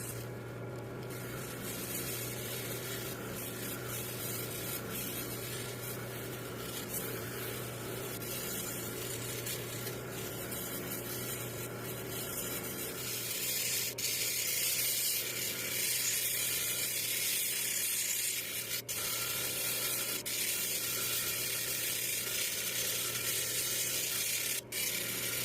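Agate being polished against 8,000 and 14,000 grit wheels, a steady mechanical whir with a faint watery wash that continues unbroken for the whole stretch, growing slightly brighter and harsher partway through.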